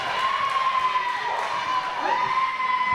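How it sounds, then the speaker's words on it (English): A loud volleyball crowd in a college gymnasium cheers and shouts continuously, with whistle-like tones and scattered thumps inside the hall. "Crowd's really loud as Cotier sets up for the serve."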